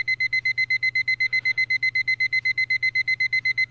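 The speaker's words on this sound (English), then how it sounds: "An alarm clock?" A video game alarm clock rings in a steady, rapid train of bright electronic beeps, loud and continuous with no voices over it.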